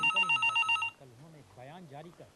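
Telephone bell ringing in a Hindi crime drama, a quick run of rapid electronic rings lasting about a second before a man and others start talking.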